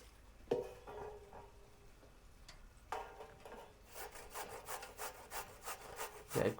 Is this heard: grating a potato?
yes